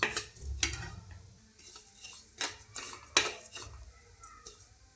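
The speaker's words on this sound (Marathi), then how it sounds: "त्यासाठी 2 ते 3 मिनटं तुपामध्ये छान असे भाजून घ्यायचे तीळ." Sesame seeds roasting in ghee in a pan, stirred with a metal spoon that scrapes and clinks against the pan in sharp separate strikes, close by, with a faint background of roasting and no talking.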